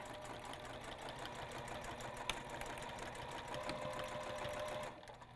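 A sewing machine runs steadily, stitching along the edge of a fabric tote bag to form a boxed corner, with a close, continuous mechanical whir that cuts off just before the end.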